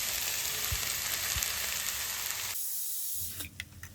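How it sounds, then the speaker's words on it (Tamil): Bitter gourd fries in hot oil in a pan, a steady dense sizzle heard up close that drops away briefly near the end before small crackles return. "ஒரு பேனில் நல்ல எண்ணெய் ஹீட் ஆனதுக்கப்புறம் பாவக்காயை உள்ளே போட்டு நல்லா ஃப்ரை பண்ணணும்."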